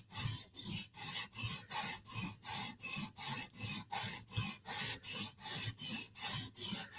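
A Koenig blade is being sharpened with even back-and-forth strokes, about two per second, each a soft, close rasping scrape separated by brief pauses, with no voices.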